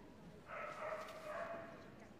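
A seven-year-old border collie barks in a large indoor arena at an agility championship, a sustained yelping bark heard somewhat distant under the crowd and hall noise.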